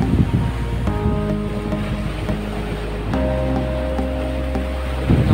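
Continuous rushing surf and wind noise at the beach below Nivati Fort, with a low hum running through it, loud and steady, with no voices.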